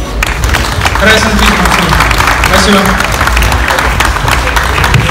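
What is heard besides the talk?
audience applause for new MMA champion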